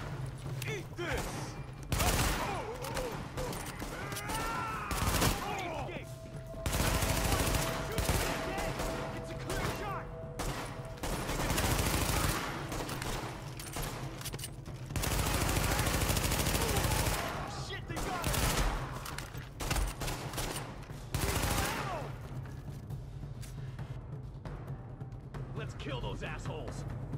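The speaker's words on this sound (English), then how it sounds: "The escort party's taking heavy fire from the roof." Heavy gunfire from a rooftop gunner in The Division, with bursts of automatic fire and shots running through nearly the whole stretch, loud and dense, over a steady low rumble with voices talking at times.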